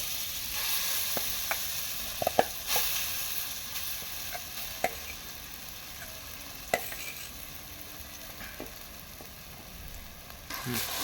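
A spatula works a paste of ground yardlong beans, gram flour and spices in a hot pan, giving a continuous low sizzle broken by scraping strokes and sharp taps against the metal.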